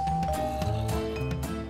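A doorbell rings in a modded Minecraft map, a short tonal ding-dong chime with sustained ringing notes close up and no talk.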